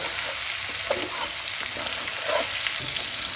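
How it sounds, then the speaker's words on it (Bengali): Chopped cauliflower frying with onion greens in a pan, a steady loud sizzle with occasional stirring scrapes throughout, close up and without talk. "এই ফুলকপিটাকেও 2 থেকে 3 মিনিট এর সঙ্গে ভেজে নিতে হবে।"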